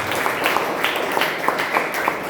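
Sustained applause from an audience celebrating prize winners at a seminar gathering, a steady dense patter of many hands clapping at moderate loudness throughout, with no talk over it.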